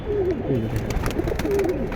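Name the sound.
pigeons cooing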